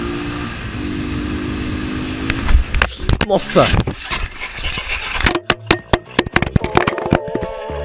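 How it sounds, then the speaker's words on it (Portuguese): Motorcycle sliding on roadside sand and going down in a crash: a steady engine drone gives way to loud scraping and impact bursts, then sharp clattering hits, with an excited voice exclaiming over it. "O pneu da moto escorregou em uma areia na beira da pista."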